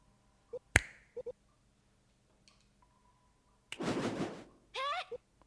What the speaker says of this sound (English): Now, snap your fingers.